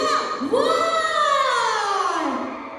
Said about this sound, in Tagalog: parinig nga ng palakpakan na may hiyawan!